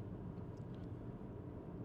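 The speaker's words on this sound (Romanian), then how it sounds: "Se aude inclusiv motorul rotativ care încarcă bateria" Steady low engine drone from the rotary range extender of a 2024 Mazda MX-30 R-EV plug-in hybrid charging its battery while cruising at 80–90 km/h on a motorway, a continuous faint rumble mixed with road noise.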